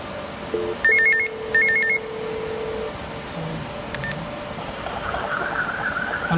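A Cisco IP phone rings in two short warbling bursts, followed by quieter electronic tones and a faint hum in a quiet room.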